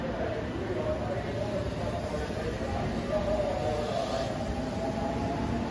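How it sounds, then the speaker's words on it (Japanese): A Sanyo Electric Railway train wrapped with a 100th-anniversary headmark pulls out of a station, heard as a steady low rumble with a rising whine that holds at an even level for the whole span. "山陽電車100周年のヘッドマークラッピングされて今出発していきました"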